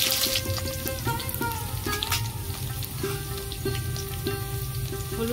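Chopped green chilli added to half-fried garlic and onion in hot oil for a taro leaf ghonto, a dense continuous sizzle over a steady hum, with no voices.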